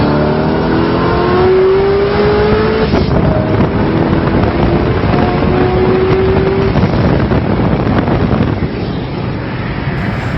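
A C6 Chevrolet Corvette races against a roughly 750 wheel-horsepower car, loud engines roaring steadily at full throttle, with rising whine tones through the run and heavy wind buffeting the microphone throughout.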